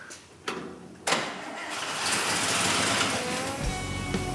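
A custom car engine in a garage cranks with two sharp bursts, then catches and settles into a steady, fairly loud idle that runs on alone with no one speaking.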